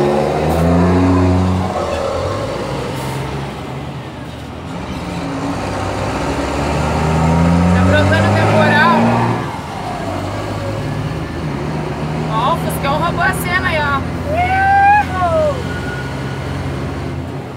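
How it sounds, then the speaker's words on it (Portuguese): Loud road traffic on a busy highway beneath viaducts, with engines droning and revving as vehicles pass close by in a dense, continuous roar, and faint squeaks and brakes near the end. "Tá um barulhão de automóvel"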